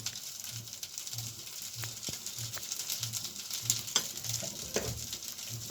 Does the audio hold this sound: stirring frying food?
yes